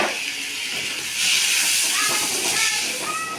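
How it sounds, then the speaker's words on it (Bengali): Rice sizzling in a little ghee with bay leaf, cinnamon and cardamom for pulao, a steady frying hiss that swells in the middle, with brief faint tonal squeaks near the end. "ওই অল্প একটু ঘিয়ের মধ্যেই তেজপাতা, দারচিনি, এলাচ দিয়ে চালটা দিয়ে দেব।"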